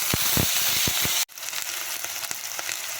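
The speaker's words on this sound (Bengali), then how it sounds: "তেলের মধ্যে আমরা গোটা গরম মশলা দিয়ে দেব। এরপরে আমরা পেঁয়াজ বাটাটাও দিয়ে দেব।" Onion paste added to hot oil with whole garam masala in a pan for a potol and prawn dish: a loud sizzle with stirring knocks, a brief cut, then continued softer hissing.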